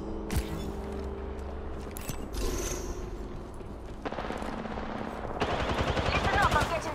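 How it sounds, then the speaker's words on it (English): Gunfire in the video game Apex Legends, with rapid bursts and single shots that get denser and louder toward the end, mixed with mechanical clicks and game effects. "Listen up, I'm getting shot at."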